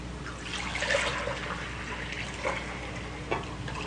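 Liquid is poured into a mixture in a home kitchen, a gentle watery trickling and splashing with a few brief louder gurgles, close by.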